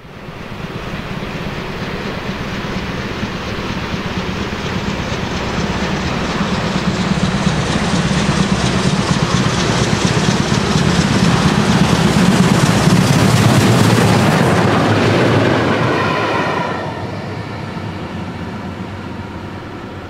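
Steam locomotive 52 8154 runs on rails toward its home depot at Leipzig-Plagwitz after a steam locomotive gathering in Dresden, with a loud broad rumble and rail clatter that swells to a peak and then eases off as it passes.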